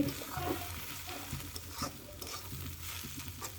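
Pumpkin frying in a pan is stirred steadily, with a continuous sizzle and soft scraping of the spatula, close and moderately loud.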